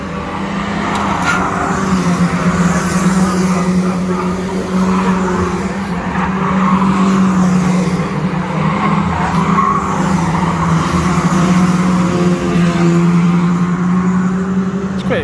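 Pro stock cars racing at a Cowdenbeath stock car meeting in Scotland, with a loud continuous roar of engines and tyre skidding on the track, a dense sustained wash of noise close by.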